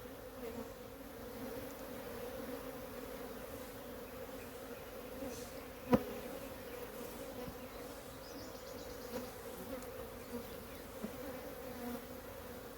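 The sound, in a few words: honeybees buzzing around opened hive frames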